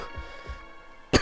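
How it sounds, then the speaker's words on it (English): A person coughing a few quick, soft times close to the mic, ending in a sharper louder burst. "I figured I'd break out in coughing."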